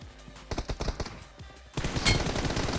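Gunfire in PUBG Mobile, a quick burst of about a dozen sharp automatic shots, followed by a denser, louder roar of shooting and impact noise.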